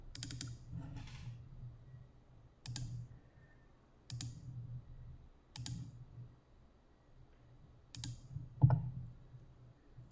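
Mouse clicks while working in electrical one-line diagram software, a few sharp, quiet clicks, some in quick double pairs, spaced over a soft background hum with no speech.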